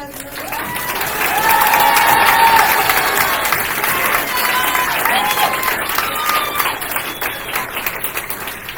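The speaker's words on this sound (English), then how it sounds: "give them all one last round of applause" An audience claps at a fine arts awards night, the applause swelling quickly into a full, sustained roll and then slowly thinning, with scattered voices and cheers mixed in.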